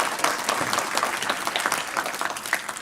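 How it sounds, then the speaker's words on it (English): Audience applause at an annual memorial lecture, a steady round of close, dense hand clapping with no voices over it. "I think you deserve a round of applause."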